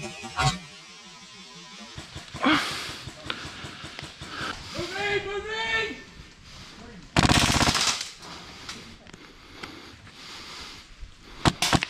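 Airsoft pistol shots during an airsoft game outdoors, sharp cracks and bursts scattered through the clip, some loud and close, with voices talking and calling out around them.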